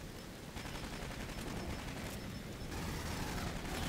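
An automated sentry gun in the video game Aliens: Colonial Marines fires a dense, continuous burst of rapid shots, loud and steady from start to finish with no speech.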